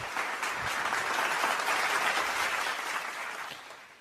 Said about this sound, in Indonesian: Kita kasih aplaus kepada mereka yang telah berjuang.